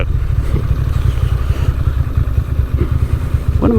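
Motorcycle engine running steadily while riding on roads around West Seattle and Alki Beach, a loud, dense low rumble with throttle easing off and slight revving throughout, no talk over it.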